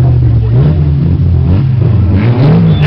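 Stock cars lined up three abreast revving their engines at a race start, a loud, wavering engine roar that surges and dips continuously.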